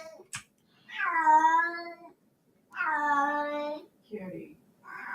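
A cat meows twice in long, drawn-out, plaintive cries near the microphone, followed by a shorter chirp-like call. A sharp click comes just before, and the room is quiet between the meows.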